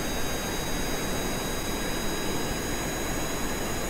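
Steady, loud broadband roar of a jet engine as a heavy aircraft strains down the runway in Kerbal Space Program, a constant dense rumble with no breaks or voices.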